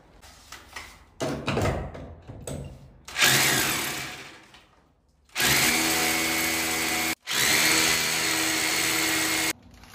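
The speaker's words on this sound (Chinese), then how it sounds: "我今天打的就是10个的孔" An electric drill bores 10 mm holes into a ceiling for a hanger rod, loud whining bursts with short pauses, then two long sustained runs broken by a brief stop.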